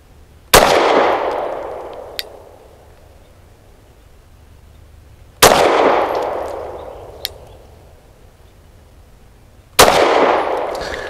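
Three loud, sharp pistol shots from a Lone Wolf Arms Dusk 19 fired at a range, spaced several seconds apart, each with a ringing decay and a faint metallic ping of steel target or casing shortly after.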